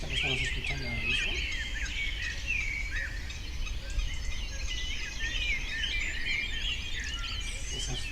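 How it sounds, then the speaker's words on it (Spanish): A live dawn chorus of coots, blackbirds and robins fills the air with overlapping chirps, whistles and song phrases over a constant low background rumble, with no pause throughout. "Esas fochas, esos mirlos, esos petirrojos"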